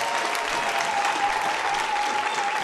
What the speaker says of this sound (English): Clap for Jesus Christ wherever you are.